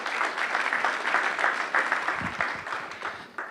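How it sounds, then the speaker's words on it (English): Applause fills a fintech summit hall, a steady wash of many clapping hands with a few louder individual claps near the end. "a round of applause for yourselves and the audience"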